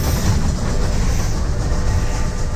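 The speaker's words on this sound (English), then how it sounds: "That is a violent train." A train in an animated period cartoon, heard as a loud, steady, close rumble with heavy low-end roar and metallic clatter, continuous and without voices.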